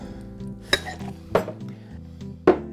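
Sloppy Joe's cocktail being shaken in a shaker: three distinct clinking jolts of ice and metal spaced about a second apart, close and fairly loud over a quiet background.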